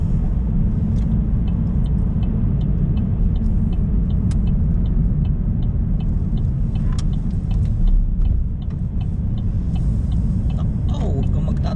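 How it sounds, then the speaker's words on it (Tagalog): Road traffic in a busy, stop-and-go jam, a dense continuous rumble of car engines close by with faint ticking and occasional brake hiss, steady throughout and no talk. "Sinabi ko na traffic."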